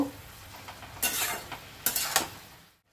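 Mutton keema being stirred in a pan with garlic paste, salt, turmeric, green chilli paste and red chilli powder, with two bursts of scraping and sizzling at close range, quieter frying in between, and no talking.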